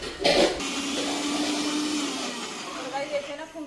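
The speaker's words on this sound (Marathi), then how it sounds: "आता मी डाळ मिक्सरमध्ये काढते." A kitchen mixer grinder whirs as it grinds dry gram dal, a steady motor drone with a brief louder burst at the start, close by, with a voice speaking over it.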